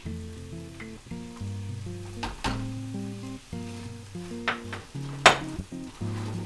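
Pepper and garlic sizzle in a pan with a little oil while cooking guinea hen with kale and peanut, a steady hiss under prominent background music, broken by a few sharp clinks and stirring knocks.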